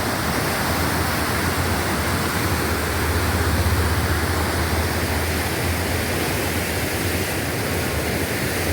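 The Mula river running high, heard as a steady, dense rush of flowing water that stays constant throughout with no voices.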